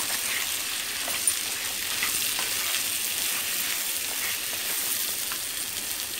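Mutton frying in a pan with turmeric, salt and chili powder gives off a steady, close sizzle, an even crackling hiss with no talking over it.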